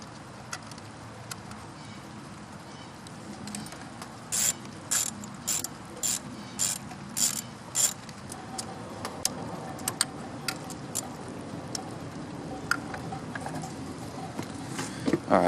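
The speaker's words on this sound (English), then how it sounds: "And then I'll get the socket and tighten it up." A socket ratchet tightens the water outlet bolt on a 2014 Chevrolet Cruze 1.4L, a run of loud, close, evenly spaced ratcheting clicks followed by scattered lighter clicks and tool handling.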